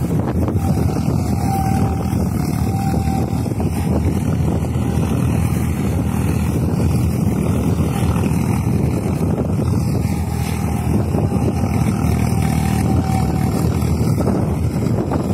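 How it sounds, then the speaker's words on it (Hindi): A tractor works a paddy field during rice straw management, its engine droning loudly and continuously with heavy wind buffeting the microphone and no pause from start to end. "ये ट्रैक्टर चल रहा है"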